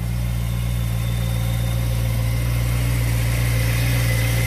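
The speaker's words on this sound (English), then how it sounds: "Just started the car, obviously it's cold." A cold-started BMW M3 Competition engine idles close by, a steady low rumble with a constant drone that holds throughout, alone with no voices.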